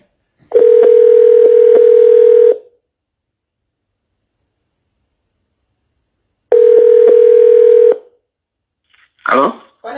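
A telephone dial tone hums loud and steady while a call is placed again, in two long stretches with faint dialing clicks, separated by silence and followed by a brief burst of voice.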